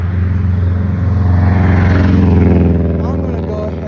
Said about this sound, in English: Your car sounds like shit, bro.